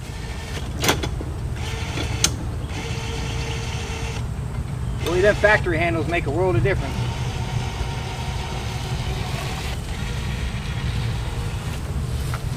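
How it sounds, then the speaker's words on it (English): A diesel tractor engine idles with a steady low rumble throughout in a bee yard, while someone speaks briefly over it. "I'm gonna pull the tractor over here though."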